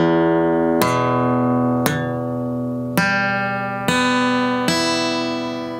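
Guitar chord picked one string at a time from the sixth string upward, five clear separate plucks each left to ring and overlap, with one note in the chord muted, played alone with no talking.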